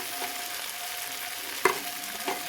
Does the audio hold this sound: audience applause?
no